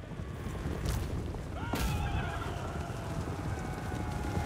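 A horse neighs amid clip-clopping hooves and a low rumbling battle din in Total War: Warhammer III, the whinny rising sharply near the middle over a constant dense background.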